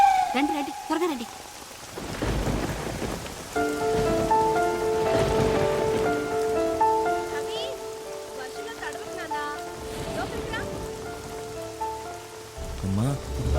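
Steady rain falls throughout, with music and voices running over it.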